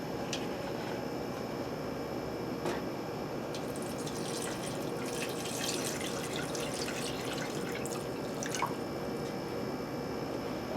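Simmering sauce pours steadily into a pot of daikon radish for a Japanese simmered dish, making a continuous wet splashing and gurgling with occasional drips, close and even in level throughout.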